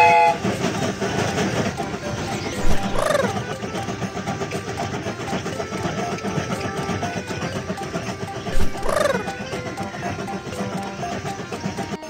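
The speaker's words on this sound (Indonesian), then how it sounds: "Kereta ini akan segera berangkat." A cartoon train departs and rumbles along with steady rattling, and its horn sounds twice in short blasts, near and loud, over continuous clattering.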